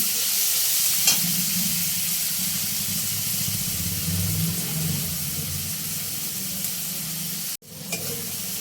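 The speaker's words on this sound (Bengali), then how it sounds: "ক্যাপসিকাম, পেঁয়াজ আর টমেটো ভাজা হয়ে গেছে" Capsicum, onion and tomato fry in a pan for restaurant-style Chinese noodles, giving a steady close sizzle with low bubbling. A sharp clatter comes near the end, then the frying carries on.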